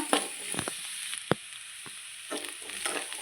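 Egg and onion frying in a pan, a steady close sizzle with a few sharp scrapes and taps of a spatula stirring, no voices.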